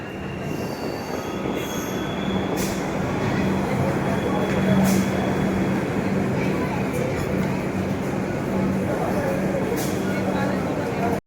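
The Kurukshetra–Khajuraho Geeta Jayanti Express rolls past close by in a steady, loud rush of wheels on rail, with a sustained squeal and repeated clacks of passing coaches.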